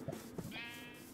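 A single sheep bleats in the Minecraft modpack SevTech Ages, a short wavering cry rising after a few soft soundtrack thumps, close and clear with no talking.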